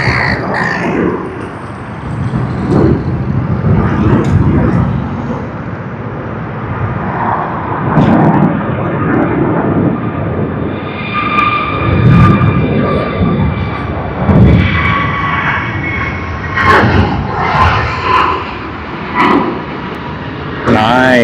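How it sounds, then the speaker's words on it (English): An airliner's takeoff roll at Sydney Airport builds into a loud, sustained engine roar, with a rising whine in the second half and a voice talking over it. "let's capture that takeoff roll"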